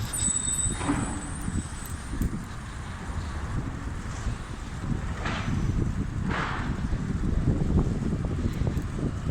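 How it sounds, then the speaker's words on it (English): Steady wind buffets the microphone throughout while cycling in Copenhagen, Denmark, a constant low rumble with occasional gusts swelling louder. "That noise you hear that's wind."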